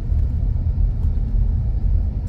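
A car drives along a street in a newly built district of Kaliningrad, giving a steady, close low engine and road rumble throughout with no talk.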